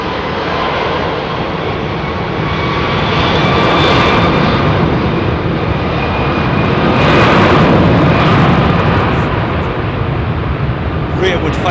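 Jet airliners departing runway 27R at London Heathrow, a loud, steady engine roar heard up close that swells and fades in broad waves over the clip, with a voice speaking over it.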